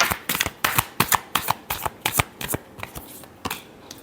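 A tarot deck being shuffled by hand in rapid riffling bursts, a dozen or so crisp flutters in quick succession, close and fairly loud, with no talking.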